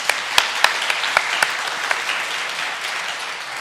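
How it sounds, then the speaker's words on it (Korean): A church congregation claps steadily during a worship service, with a few sharp, loud claps standing out at the start before it settles into even, sustained applause. "주님 앞에 영광의 박수 올립니다."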